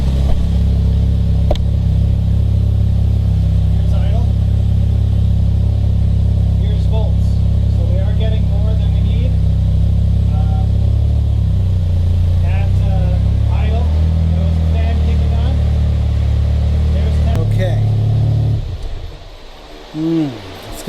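A 1988 Mazda RX7 FC3S rotary engine idles warm at about 1,000 RPM, a loud, close, steady drone with a choppy pulse that continues for most of the run and then cuts away near the end.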